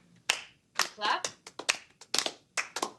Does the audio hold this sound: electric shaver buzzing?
no